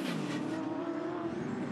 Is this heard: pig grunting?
no